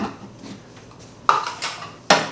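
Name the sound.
mixing granola bar ingredients in a bowl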